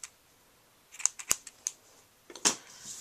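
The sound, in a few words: scissors snipping ribbon for a bow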